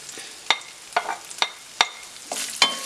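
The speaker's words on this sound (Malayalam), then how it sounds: "വെളിച്ചെണ്ണ ഒന്ന് ചൂടായി കഴിയുമ്പോഴേക്കും അതിലേക്ക് നമുക്ക് ചെറുതായി കൊത്തി അരിഞ്ഞ ഇഞ്ചി ഇട്ട് കൊടുക്കും" Minced ginger and garlic frying in hot coconut oil, a steady sizzle broken by regular stirring scrapes, close and clear with no talk.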